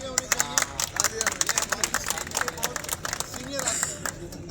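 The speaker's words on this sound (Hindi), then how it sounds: "स्पेशल तालियां होनी चाहिए।" An audience at a pigeon-keeping award ceremony breaks into scattered, sharp claps that come in uneven bursts, while a voice talks over them at moderate volume.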